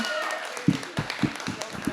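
Hands clap in a loose, roughly regular beat at a symposium gathering, sharp close smacks spaced about a quarter second apart while a voice talks over them.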